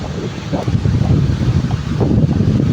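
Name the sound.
strong wind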